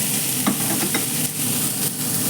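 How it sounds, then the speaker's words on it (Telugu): Onions and potatoes fry in a pan with a steady loud sizzle, broken by a few stirring scrapes, close up and without talk. "ఉల్లిపాయలు అయితే వేగిస్తున్నానండి"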